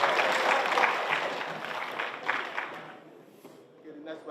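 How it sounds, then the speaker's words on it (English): An audience at an ECOWAS Parliament town hall sensitization session claps loudly for a few seconds, then the applause fades and trails off into quieter room sound. "Can you clap for me?"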